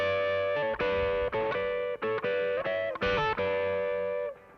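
Two electric guitars play an interlude in harmony, a bright, effected line of sustained, repeating phrases with short breaks between them, loud and alone, fading at the end.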